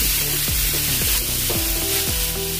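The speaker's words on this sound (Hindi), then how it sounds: "इसमें टमाटर डालेंगे।" Large tomato slices hit hot oil with fried onion, garlic and ginger for a spinach curry, giving a loud, continuous sizzle with stirring, and a tonal background line running beneath it.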